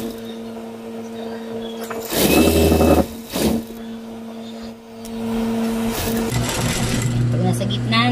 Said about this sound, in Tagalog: Tsaka natin uumpisahan ng tahi dito sa dulo.